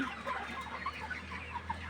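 Hens suffering from an eye illness cluck softly and repeatedly over a low steady hum, a calm murmur of several birds close by.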